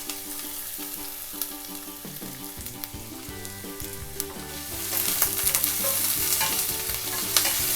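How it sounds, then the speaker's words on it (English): Onions sizzle and sauté in a pan, a continuous close frying hiss with stirring that intensifies toward the end, alongside light background music. "So I'm going to sprinkle the onions in the pan."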